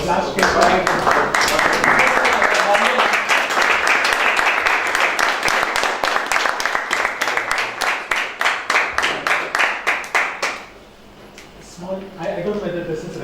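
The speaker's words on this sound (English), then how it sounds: "So I think we need a big round of applause" An audience at a personal finance talk bursts into dense, loud applause that thins into rhythmic, evenly spaced clapping before fading, followed by a brief murmur of voices.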